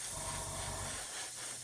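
An airbrush sprays matte finish coat onto a 1/32 scale model Spitfire, giving a steady, close, continuous hiss that stays even throughout, with no voices over it.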